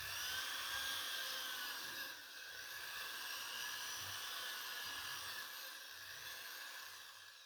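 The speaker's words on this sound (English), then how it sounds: "First off, drilling a hole, getting it ready." Thin, high-pitched whine of a drill boring a hole into a pumpkin, a steady grinding rasp with slight dips as the bit is pushed and pulled, close and faint, no voices.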